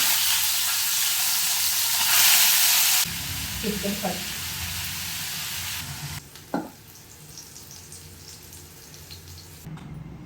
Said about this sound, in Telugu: ఇప్పుడు ఇదే ఆయిల్లో చికెన్ వేసేస్తాం.